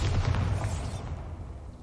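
A Bombarda spell explosion in the Hogwarts Legacy video game, a loud low boom that bursts at the start and then rumbles away, fading over about two seconds.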